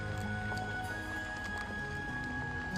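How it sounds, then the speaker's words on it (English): Lum hooves in the video game Star Ocean Till the End of Time, a steady clip-clop of hoofbeats mixed into a continuous loud in-game soundscape with a sustained tonal hum. "Sound of lum hooves"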